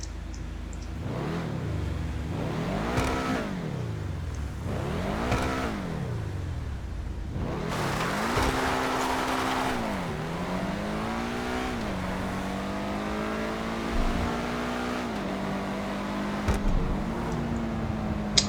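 Benefactor SM722 sports car engine in GTA 5 revving hard, with repeated rising and falling sweeps followed by sustained acceleration through gear changes and a raucous, steady note, loud and close with no talking.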